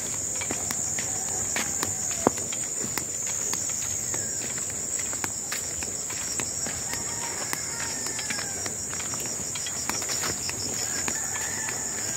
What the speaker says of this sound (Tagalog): Anong ginagamit na paghakot ng niyog dito sa amin, karga sa kabayo.